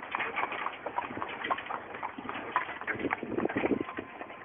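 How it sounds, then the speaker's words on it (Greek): Donkeys and a horse on a mountain trail give off a busy, irregular clip-clop of hooves, steady and fairly close over a rustling outdoor background. "15 γαϊδούρια ένα άλογο."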